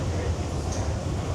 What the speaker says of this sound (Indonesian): Kereta di sini setiap 2 menit sekali atau 3 menit sekali itu datang.